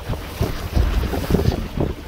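A motorboat engine runs at 1300 rpm through choppy waves, a low rumbling drone with rhythmic thuds and splashes as the hull slaps each wave, with wind buffeting the microphone.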